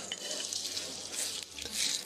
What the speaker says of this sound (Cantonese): 就先將個臘肉爆香佢